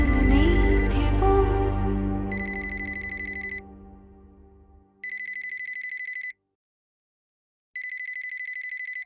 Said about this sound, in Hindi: आग लग गई कि बार बार फोन कर रही हो?